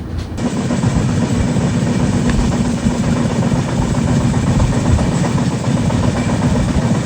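Raptisagar Express train running on rails, a loud continuous rumble and rattle from inside the moving coaches with faint rhythmic clatter of wheels throughout.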